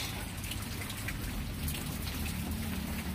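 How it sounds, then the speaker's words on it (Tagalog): Steady rain falls outside during morning cleanup, a dense close hiss of drops pattering on surfaces, continuous and even, with no talk. "Ayan, umuulan oh."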